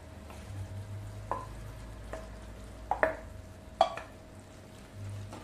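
A spoon scrapes and stirs spinach and pea sabji with gram flour in a pan, a few distinct scraping knocks over a low, steady background hum, fairly quiet and close.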